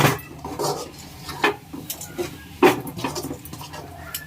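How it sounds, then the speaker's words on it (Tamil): Fried masala for a Tamil fish curry is stirred in a pan, with intermittent scrapes and metal clinks of a spoon against the pan and a faint background sizzle. The strokes come at an uneven rhythm. No one speaks. "அப்படியே மசாலே அப்படியே ஒரு கிண்டு கிண்டிட வேண்டியதான்"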